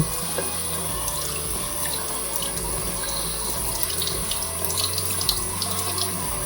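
Steady stream of tap water pours and splashes onto a Samsung Galaxy Z Fold 6 smartphone and its touch screen, a continuous close hiss of running water with no talking.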